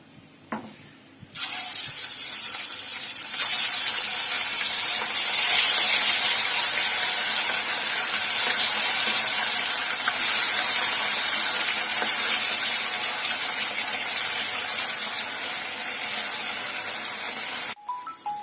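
Chicken pieces frying in hot oil in a kadai, a loud, continuous sizzling hiss that starts abruptly after a quiet moment, runs steadily, then cuts off near the end.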